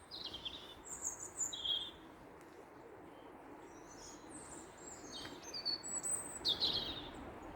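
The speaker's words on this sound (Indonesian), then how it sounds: "tuh suara burung bisa kedengeran banget" Birds chirp and sing in bursts in trees at dusk during a UK winter, over a steady hiss of insects or distant background noise. The calls come in a few bright clusters, moderately close.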